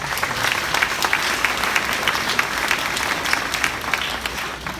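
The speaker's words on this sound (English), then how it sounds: "Give yourselves a round of applause." Graduating sixth graders and their audience break into sustained applause at a school graduation ceremony, a loud, dense clatter of many hands with sharp individual claps popping out, tapering off slightly at the end.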